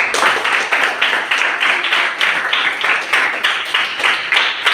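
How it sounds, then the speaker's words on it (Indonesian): Classroom applause for a student, many hands clapping in a quick steady rhythm, fairly loud and close, lasting the whole stretch with no talk over it. "Tepuk tangan untuk Fahri."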